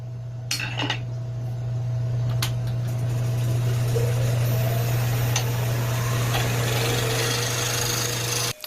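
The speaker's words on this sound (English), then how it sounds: "I'm trying to just remove any bumps and irregularities or high spots. And I'm just using, you know, my skew as a scraper." A wood lathe hums steadily while a skew chisel, used flat as a scraper, rubs across the spinning wood to smooth bumps and high spots, giving a continuous close scraping hiss with a few sharper ticks.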